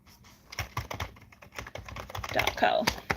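Quick bursts of clicking keystrokes on a computer keyboard, close and fairly quiet, tapped in short uneven runs while someone talks at the same time.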